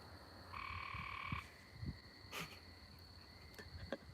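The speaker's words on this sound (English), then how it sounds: "We have a guest, special guest, Kermit the Frog" Frog croaking outdoors at night, a steady tonal call with a few short croaks over a constant cricket and insect drone, fairly faint and with no talking.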